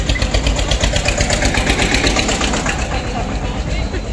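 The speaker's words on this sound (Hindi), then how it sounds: "ट्रैक्टर जा रहा है" A tractor engine chugs steadily nearby with a pulsing mid-low rumble as it passes, a continuous mechanical drone throughout with no clear speech.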